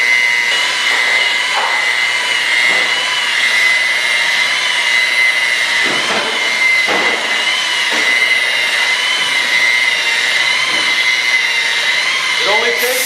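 A buffing polisher running slowly at about 1000 RPM on wood lacquer gives a steady, loud, even whine that holds without a break, with a person talking over it.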